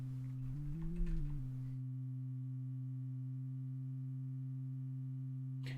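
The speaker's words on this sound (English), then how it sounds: "now we hear the LFO mixed in" Quiet, steady low sine tones from a Behringer Neutron synthesizer's LFO mixed with an oscillator hum together, wobbling in pitch briefly at the start before settling into a smooth, constant drone.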